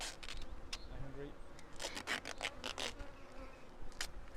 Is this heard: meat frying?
no